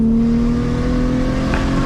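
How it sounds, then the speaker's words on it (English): A big single-turbo R32 Skyline GTR runs through a tunnel, and its wastegate releases a brief, loud hissing rush over the echoing engine drone. "Right there was wastegate through a tunnel."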